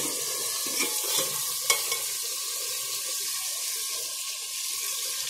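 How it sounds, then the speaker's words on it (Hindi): Potatoes frying in a pan give a steady, close hiss and crackle that stays even throughout, with a few small pops and light stirring clicks near the start. "अब मैं इन दोनों को फ्राई करूँगी अच्छे तरीके से"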